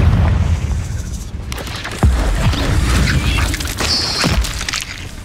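Confringo blasting spell in Hogwarts Legacy exploding with a deep boom and crackling debris, followed by a rumbling tail under ongoing game ambience.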